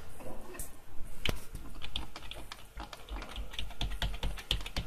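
Computer keyboard keys pressed in an uneven run of sharp taps and clacks, close and fairly loud, on a freshly assembled desktop PC being tested at the BIOS screen.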